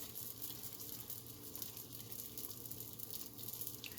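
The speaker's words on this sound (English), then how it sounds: "keep this frying until it turns into golden brown" Jalapeno popper wontons fry in hot oil, giving a steady, soft crackling sizzle that stays even throughout, close by and quiet, with no talking.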